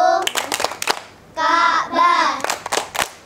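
Children clap in rhythm to a chant, with several sharp claps in quick succession followed by chanted young voices, then more claps. The setting is a children's Quran school performance in Indonesia.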